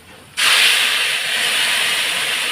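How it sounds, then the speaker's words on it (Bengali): Poppy seeds hitting hot oil already tempered with black cumin, a sudden loud burst of sizzling hiss that starts abruptly and holds steady, close and bright, with no talking. "কালো জিরাটা ফোড়ন দিয়ে দিয়েছি এখন আমি পোস্তটা দিয়ে দেবো"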